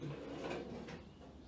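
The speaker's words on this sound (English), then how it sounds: "we test out the drawers in the stand itself" A drawer slides open and shut in a storage stand beneath a milling machine, a soft, quiet rumble and scrape with a light bump near the start.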